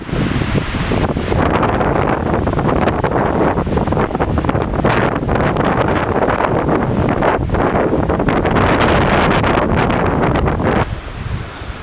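Strong wind roars continuously over a wilderness lake in the John Muir Wilderness, Humphreys Basin, buffeting the microphone heavily and mostly masking the wash of waves, loud and steady until it eases near the end.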